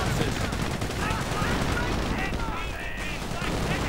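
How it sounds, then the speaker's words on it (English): Video game battle with assault grenades and gunfire, dense continuous crackle of shots and blasts across the whole stretch, with a voice talking over the din. "And assault grenades flying through the air soon."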